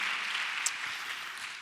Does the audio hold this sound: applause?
yes